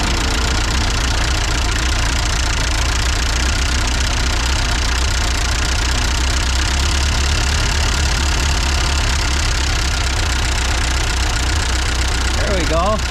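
An old tractor engine, an Allis Chalmers WD or Ford 8N under repair with a carburetor fuel leak, runs loud and close, a rough, uneven idle that continues throughout with a faint voice at points.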